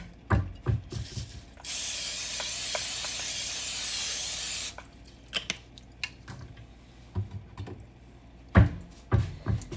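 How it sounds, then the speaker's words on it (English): A steady hiss of olive oil sprayed onto a pan lasting about three seconds, bracketed by clattering kitchen handling noises before and after. "we're going to spray our pan, and I'm using olive oil"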